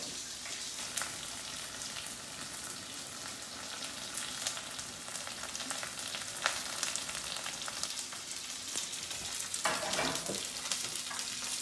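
Fried onions are added to a pan with other frying food, giving a steady close sizzle with occasional stirring scrapes and no talk.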